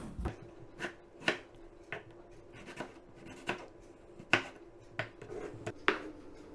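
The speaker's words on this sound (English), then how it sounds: "Chop up the preserved mango. Chop up the tomatoes." A knife chops tomatoes and preserved mango on a board, a dozen or so soft, irregular taps spaced roughly half a second apart, close but quiet, with no talk.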